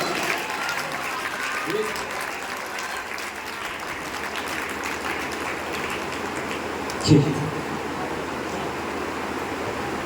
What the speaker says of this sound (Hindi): तालियों के साथ, तालियों के साथ।